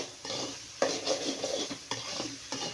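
Cabbage and egg stir-fry being stirred in a pan, with a spatula scraping and knocking against the metal in several distinct strokes over a soft background sizzle. No one speaks.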